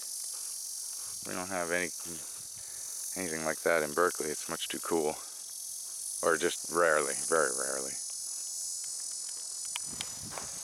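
Steady high-pitched chorus of many insects chirping on a desert hike in the Mojave, a constant bright drone under someone talking close by throughout.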